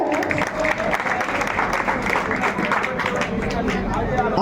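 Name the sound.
audience applauding loudly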